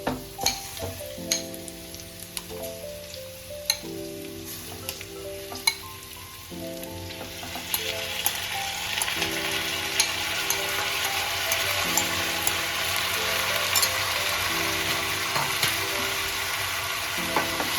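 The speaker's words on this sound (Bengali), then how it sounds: "এবার অ্যাড করে দেবো আমি ম্যারিনেট করে রাখা চিকেন।" Marinated chicken sizzles and fries in a pan alongside beans, with steady crackling and repeated scraping stirs over a gas flame, continuous and fairly close throughout.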